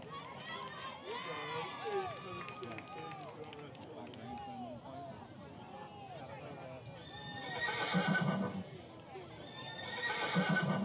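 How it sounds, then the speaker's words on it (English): A horse sound effect blasted over the stadium speakers at a middle school football game after a Mustangs score: repeated whinnies and neighs with galloping hoofbeats, loud and echoing, with crowd noise and an announcer talking throughout. "They just hit us with a horse sound effect."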